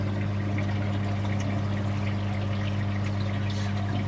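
Water bubbles and fizzes steadily in the skimmer cup of a modified aquarium sump, a continuous near hiss over a constant low pump hum with no talking.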